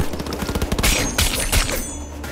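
Gunfire from enemies in the video game Cyberpunk 2077, a rapid volley of loud shots in close bursts, with sharp cracks clustering around the middle of a short stretch of combat.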